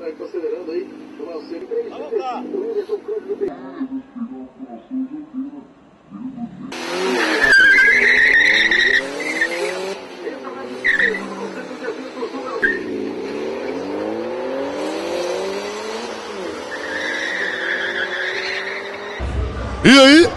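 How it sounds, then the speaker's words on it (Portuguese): A race car accelerates around a track, engine pitch sweeping up and down through gear changes with tire squeal, heard as broadcast footage while a presenter talks over it. "Vamos mostrar algumas imagens agora do carro do Ramiro na pista acelerando."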